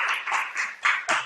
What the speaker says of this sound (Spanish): Ahí te aplauden, ¿verdad?